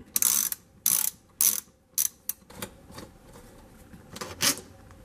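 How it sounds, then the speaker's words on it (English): A hand ratchet clicks in short, separate bursts while backing T25 Torx bolts out of a Craftsman leaf blower's carburetor mount. The ratcheting is close and crisp, with quieter clicks and pauses between the pulls. "I'm going to take it off, and that's just a couple of these T25 Torx bolts."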